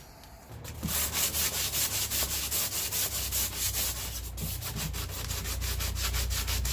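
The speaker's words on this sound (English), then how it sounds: "I've started at this point sanding it down, so I'm going to continue with that process now." Old paint being sanded down by hand gives a steady, rhythmic back-and-forth scratching, each stroke a close, gritty rasp repeating evenly with no talking.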